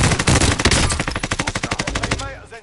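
Automatic gunfire in Call of Duty Warzone, a loud rapid burst of evenly spaced shots that slows and fades into a brief echoing tail, with no talking.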